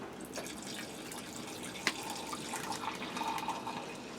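Hot water runs into a sink for dishwashing with dish liquid, a close, continuous trickle and splash marked by one sharp clink partway through.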